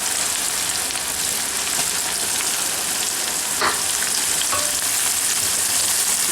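Banana blossom fries in hot oil with a loud, dense, even sizzle that holds close and steady throughout. A faint clink is heard midway, and there is no talking.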